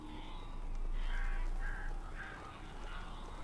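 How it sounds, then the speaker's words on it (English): Crows in the video game Alan Wake caw harshly several times in a row, fairly close and prominent over a low background rumble, with no talking. "So I guess we have to save Barry from the birds real quick"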